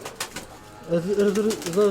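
An old breeding pigeon hen coos low and near in a short rolling phrase, which follows a few quiet rustles.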